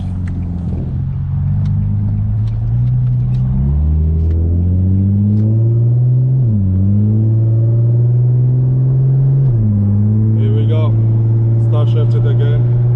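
An Infiniti G35 with a transmission control module fault is driven as its engine drone climbs, drops abruptly at each gear change and climbs again, a loud close rumble with two clear shifts and talk near the end.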